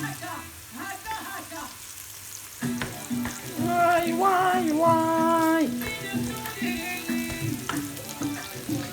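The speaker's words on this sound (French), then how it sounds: "je fais bien mijoter" Food simmering and sizzling in a pan for a chicken tortilla dish, a steady bubbling hiss with stirring, under a tonal, voice-like sound in the middle.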